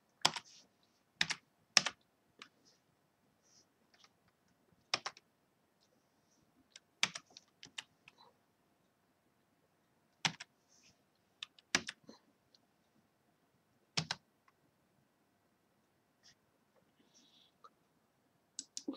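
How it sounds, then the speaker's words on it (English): Keys on a Fujitsu Stylistic Q704 tablet keyboard click in sparse, uneven bursts of a few strokes with quiet gaps between, close and fairly soft. "So again, I'm going to type."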